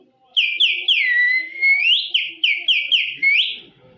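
A man whistles an imitation of a quail call, a series of about nine sharp, bright whistled notes in quick rhythm with one longer sliding note early on, loud and close with no talk.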